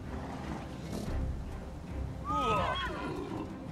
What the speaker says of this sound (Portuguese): Será que eu consigo meter os cavalos em cima do Xia Rodun e matar ele?